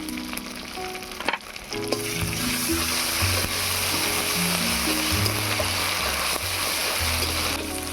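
Chopped onion with ginger and garlic paste frying in hot oil with whole garam masala and a bay leaf for an egg and potato curry, a steady loud sizzle running throughout after a brief quiet start, with occasional stirring clatter.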